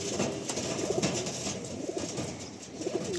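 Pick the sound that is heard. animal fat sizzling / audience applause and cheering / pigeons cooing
pigeons cooing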